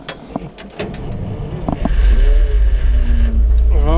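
Ural 375D 6x6 truck engine cranking with a few clicks and clunks, then catching into a loud low rumbling idle close by, with a voice speaking near the start.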